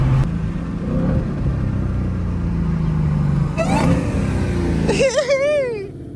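Dodge Hellcat engine rumbling with a deep steady idle close by, followed by a rising rev near the end, while voices and outdoor bustle carry over it.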